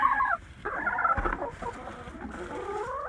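Chickens cluck softly inside a cold winter coop with a heat lamp running under the roost, short clucks and murmurs close by with a brief lull partway through.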